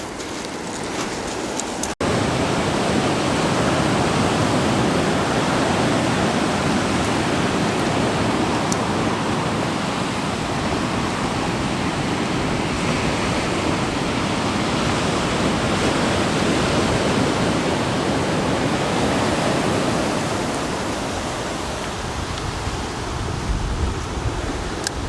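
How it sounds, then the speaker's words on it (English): Water gushes from a discharge outlet at Short Beach on the Oregon coast, a loud, close, unbroken roar of rushing water that holds steady for about twenty-five seconds. "It's not a pipe, but it's a water discharge thing here at Short Beach."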